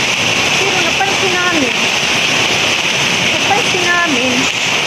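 Steady, loud rushing downpour of heavy rain that grows stronger and causes flooding, with faint voices or calls rising briefly through the roar.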